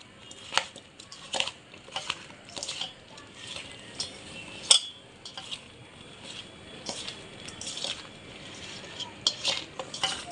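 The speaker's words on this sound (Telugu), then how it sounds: "ఒక స్పూన్ కారం ఒక స్పూన్ పసుపు వేసి చక్కగా మిక్స్ చేయాలి" Chopped eggplant is tossed with chili powder and turmeric, producing soft irregular clinks and scrapes of a spoon against a bowl, close and fairly quiet, in uneven bursts throughout.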